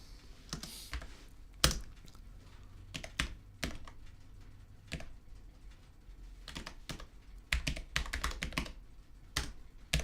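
Keystrokes on a computer keyboard during a live session with Airwindows audio plugins, coming in scattered bursts of sharp clicks with pauses between, close and fairly quiet, no talking.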